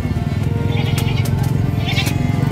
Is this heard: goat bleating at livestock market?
yes